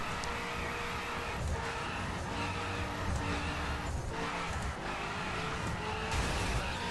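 A BMW M5 in the racing game The Crew spins its wheels in third gear, with engine drone and faint tire squeal and skidding that hold at a steady, moderate level.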